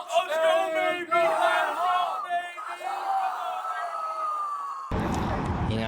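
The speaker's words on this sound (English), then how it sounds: "Typical Philly crowd. Everyone's getting rowdy." Rowdy basketball fans in Philadelphia red roar, whoop and yell together in a packed arena parking lot, a loud sustained crowd din with overlapping shouts.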